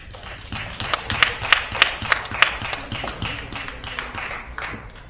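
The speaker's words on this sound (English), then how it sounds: "Can we give them applause?" A small audience at a Sauk Village board of commissioners meeting gives a round of hand clapping, a brisk patter that swells in the first couple of seconds and then tapers off, fairly close.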